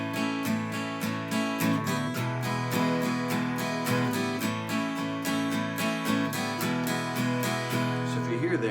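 An acoustic guitar is strummed in steady eighth notes, moving between chords and ringing open strings on the changes, with a clear, even rhythm and no voice over it.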